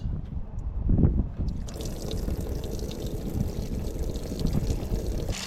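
Old, foul fuel drains from the tank of a Toyota truck into a drain pan, a steady low pouring gush with a faint trickle and no voices.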